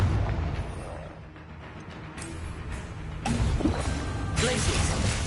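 A Confringo spell explosion in Hogwarts Legacy: several loud crashing bursts against a continuous noisy rumble of combat, the biggest blasts coming in the second half of the clip.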